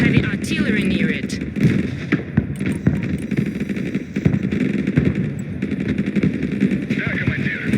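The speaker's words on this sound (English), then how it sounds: "Artillery! Take cover!" Artillery and gunfire in the war game Broken Arrow, a dense barrage of booming blasts and rattling automatic fire, loud and continuous with voices shouting underneath.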